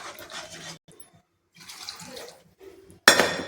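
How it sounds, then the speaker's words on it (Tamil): Water poured into a pot of mutton curry and stirred, sounding as intermittent sloshing bursts with brief quiet gaps, ending in a sudden louder splash. "குழம்புக்கு தேவையான தண்ணியை ஊற்றி நல்லா கொதிக்க விட்டுருவோம்"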